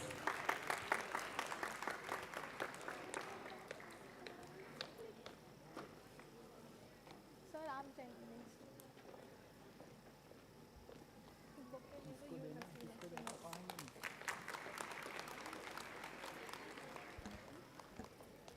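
A crowd at a convocation ceremony bursts into applause, then clapping fades under a speaking voice before a second round of loud applause rises near the end.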